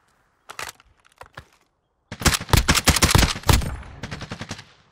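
Video game gunfire in a battle royale match: a few isolated sharp shots, then a dense loud volley of rapid cracks and bursts, close and punchy, with no talk over it.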